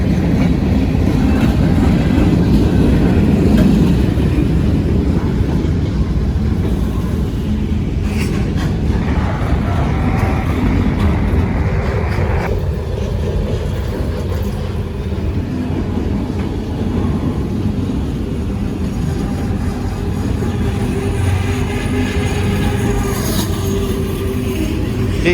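Norfolk Southern freight train rolling past on wet rails in the rain, with a wheel flat spot, a loud, continuous rumble of cars with rhythmic clacking and faint wheel squeal, close and steady throughout.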